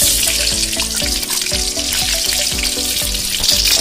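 Refined oil sizzles loudly in a pan with ash gourd, a close, continuous hiss, with music playing underneath.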